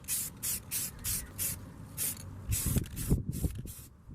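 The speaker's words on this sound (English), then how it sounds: "I'm going to be using a black satin paint to paint them over so it matches the suede wrap" Acrylic trim pieces being spray painted black satin, with a run of short hissing bursts from a spray can in a steady rhythm followed by some rubbing and handling noise, close up and with no talking.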